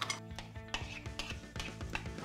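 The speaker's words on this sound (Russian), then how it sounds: "Отправляй вишню на сковородку" Quick clattering and rattling of frozen cherries tumbling into a metal frying pan, several rapid knocks close by.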